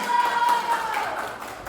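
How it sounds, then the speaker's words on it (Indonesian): Audience applause after class scores are read out at a school quiz competition, a short burst of scattered clapping at moderate level, steady and diffuse across the whole moment. "Tepuk tangan."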